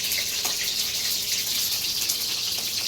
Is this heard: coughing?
no